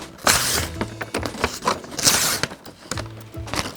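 Paper being torn close up in a children's speech therapy lesson, several sharp ripping bursts with short gaps between them, loud and clear without any talking.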